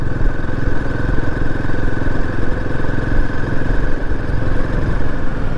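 A Royal Enfield Himalayan 450 motorcycle engine idles steadily and loudly nearby, a continuous throbbing rumble with no talking.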